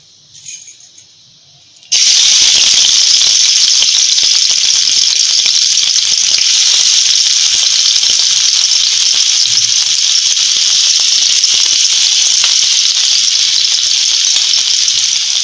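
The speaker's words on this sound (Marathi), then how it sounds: "आता ही चेचलेली लसूण आपण टाकून घेऊया" Crushed garlic hits hot oil on a raised flame during a fenugreek sabzi recipe, bursting into a loud, steady sizzle after a short quiet start and holding strong and close to the end.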